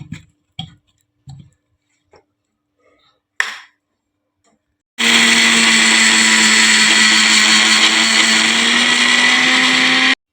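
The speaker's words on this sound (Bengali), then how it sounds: "তো চলো, এটাকে একবার মিক্সিতে পেস্ট করে নিয়ে আসি।" Green chillies and ginger are ground to a paste in a mixer grinder. After several short clicks and taps comes a loud, steady whirring motor roar that runs unbroken to the end.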